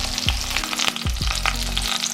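Pork cutlets, schabowe-style in a beer batter, frying in a pan with a steady close sizzle and crackle, broken by a few brief clattering stirs or flips with low thumps, no talking.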